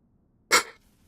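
A single sharp sneeze, short and close, bursting out of near silence and fading within a fraction of a second.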